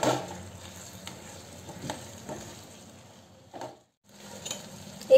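Mixed vegetables for Mumbai-style pulao frying in a pan, giving a soft steady sizzle broken by scraping stirs and spoon clinks, close up, with a brief silent gap near the end.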